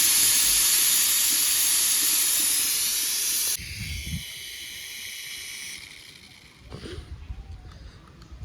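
Food frying in a pan gives off a loud, steady sizzling hiss that softens after a few seconds and continues at a lower level, with faint voices in the background.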